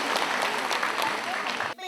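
A burst of audience applause greeting the hosts at a singing contest gala, dense and steady clapping that cuts off abruptly near the end as music begins.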